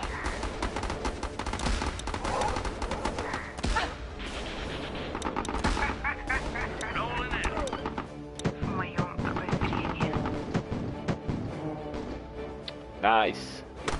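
Machine gun fire in Battle Islands: Commanders, rapid crackling bursts running almost continuously at moderate loudness under frequent talk.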